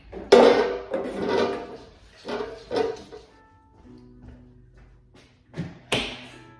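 A great big cooker drawer holding a non-stick griddle plate is slid and handled, giving several close sliding thumps early on, a quiet stretch, then a sharp knock near the end.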